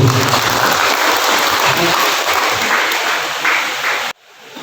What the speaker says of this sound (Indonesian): Tepuk tangan sekali lagi buat ibu guru.